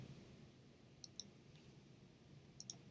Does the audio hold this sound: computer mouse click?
yes